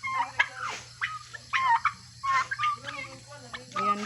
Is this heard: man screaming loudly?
no